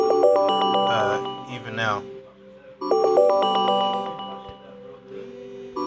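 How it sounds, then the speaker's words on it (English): A phone rings with an incoming call, a melodic ringtone that loops twice in repeating bursts, loud and close, while a person talks over the first cycle. "So I'm getting a phone call"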